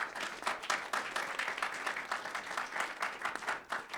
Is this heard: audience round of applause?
yes